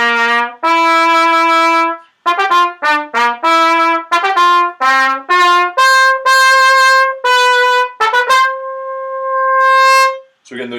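A brass instrument plays the opening phrase of a grade 5 to 6 piece, with loud, crisply tongued notes in strict time and a final long held tone, heard close and alone.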